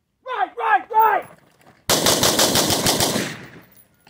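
Rapid burst of carbine gunfire at a shooting drill, a loud run of closely spaced shots lasting over a second, preceded by a few short shouted commands.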